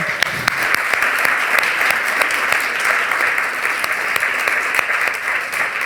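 Steady, loud applause from a group during a cardiopulmonary exercise test, a dense wash of clapping hands that continues evenly without pause.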